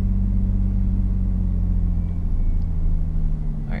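A Lexus IS300 engine held steady at about 2,000 RPM, a loud, even low rumble with a constant drone close by, with no talking over it.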